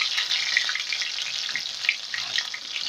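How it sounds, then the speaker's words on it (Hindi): Green chillies hit hot oil with mustard seeds and sliced potatoes in a pan while making poha, a steady bright sizzle with small crackling pops throughout. "अब इसमें हरी मिर्च डाल दीजिए।"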